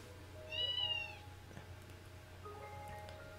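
A cat meows in the video game Fragile, one clear, rising-falling call near the start, then quieter faint cries over a low steady background hum.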